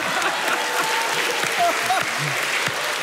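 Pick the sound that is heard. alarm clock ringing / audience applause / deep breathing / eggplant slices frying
audience applause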